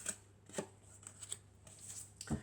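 Tarot cards being shuffled by hand, a few short papery riffles and soft slaps in an irregular rhythm, quiet and close, with no voices.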